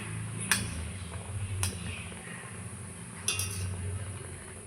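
Malai chops frying in an open, uncovered pan are turned now and then, giving three distinct utensil clinks against the pan over a steady low sizzle and hum.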